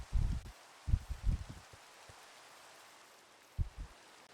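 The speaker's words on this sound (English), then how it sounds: "It's raining." Steady soft rain hiss in Minecraft, a faint even wash of drops with a few dull low thumps in the first second and near the end.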